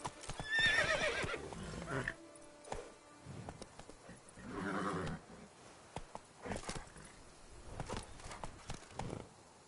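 Roach, a horse in the Witcher 3 video game, neighs loudly near the start and again midway, with scattered hoof clops and game rustle between calls.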